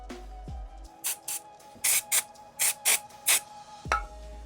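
Cleaner sprays in several short, sharp hissing bursts onto motorcycle oil drain plugs during a Harley-Davidson Sportster 48 oil change, close and crisp, with quiet mechanical handling sounds between the bursts and no talk.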